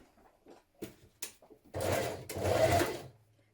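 A sewing machine runs two bursts of stitching through fabric for a gathered top, each lasting about a second with a short pause between, loud and close, after a few light handling clicks.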